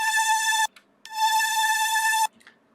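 A bright synth lead patch, the same one used for an arpeggiated part, plays two sustained tones, each holding a steady pitch with a rich stack of harmonics. A brief gap separates them, and the second is longer and cuts off sharply.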